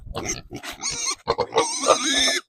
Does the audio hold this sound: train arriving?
no